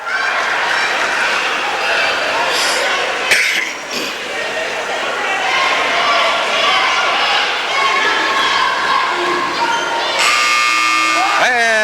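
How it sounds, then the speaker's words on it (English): At a high school boys' basketball game, a loud gym crowd cheers and shouts for several seconds before a long, harsh buzzer blares near the end to close the third quarter. "And Eric Lindsay puts up a 30-footer at the buzzer"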